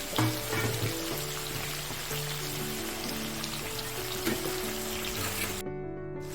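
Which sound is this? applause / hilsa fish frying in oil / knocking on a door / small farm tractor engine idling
hilsa fish frying in oil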